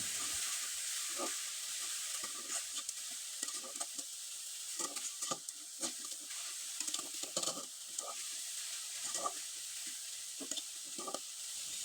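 A sweet filling of coconut, sugar, nuts and raisins is stirred in a pan, giving quiet, scattered scraping strokes over a faint, steady hiss, with no talking.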